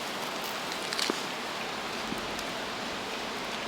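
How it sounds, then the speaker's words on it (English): Light rain just beginning to fall outdoors at a truck camper site, a soft, even hiss of drops with a few slightly louder patters, no talking. "it just started raining a little bit"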